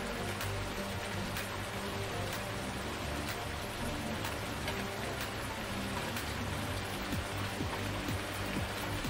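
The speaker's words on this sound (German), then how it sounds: "Es regnet, wie immer." Steady, dense rain hiss with scattered drop ticks in the game Irgendwo in Thüringen, continuous and even throughout, no voices.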